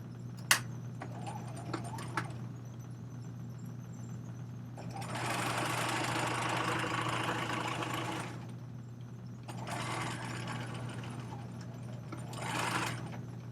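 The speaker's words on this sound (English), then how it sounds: "then we're going to sew a 5/8 inch seam" Sewing machine running a 5/8 inch construction seam, with a low motor hum underneath, a few sharp clicks at the start, then a long steady whirring burst and two shorter runs of stitching.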